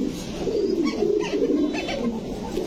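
Koka pigeons at a breeding farm give soft, low repeated coos, a gentle murmuring call that carries on steadily and close, with no talking.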